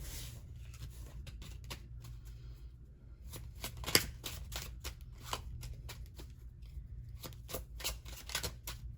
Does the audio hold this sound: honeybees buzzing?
no